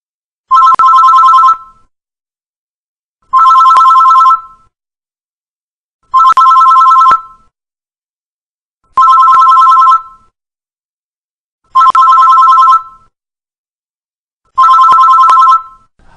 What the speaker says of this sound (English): He gets a phone call from Lex Luthor.